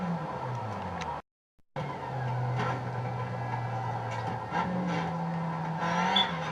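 Race car engine in Need for Speed, heard as a steady engine drone that drops out briefly, then returns and rises in pitch as the car accelerates, with faint tire noise.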